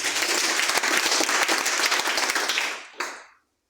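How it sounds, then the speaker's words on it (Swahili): A church congregation claps and applauds together, a dense, loud burst of many hands that fades out near the end, with one last clap after the rest. "If you are not against God, can you clap for him?"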